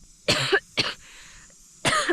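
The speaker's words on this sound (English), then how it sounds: "that dry cough is catching up with me here in the mountains" Three dry, hacking coughs close up at high altitude on a Himalayan trek: two quick ones together, then a brief pause and a third.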